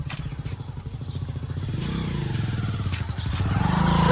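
A motorcycle engine revs and rumbles with some clatter, growing steadily louder and fuller toward the end.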